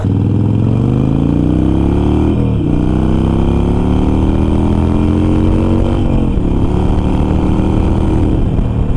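A Harley Davidson Sportster motorcycle roars along at 70 miles an hour, its engine a loud, steady drone close to the rider that dips briefly twice as the pitch shifts, with heavy wind noise throughout.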